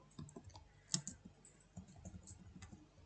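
Scattered keystrokes on a computer keyboard while a variable is typed into a school programming exercise, soft uneven clicks with one sharper tap near the middle, close and fairly quiet.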